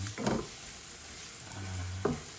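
Fried rice cooking in margarine in a pan, a soft low sizzle with a couple of stirring scrapes, close and fairly quiet with no talking.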